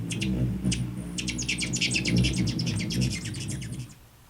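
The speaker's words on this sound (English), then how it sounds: "This is a hummingbird." Hummingbird calls: a quick run of high, thin chirps and twitters repeating steadily for about four seconds, close and fairly loud, fading out at the end.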